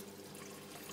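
Water from the pipework of an Aqua Reef 200 reef tank pours steadily into the first sump chamber, a continuous close splashing rush with no pauses.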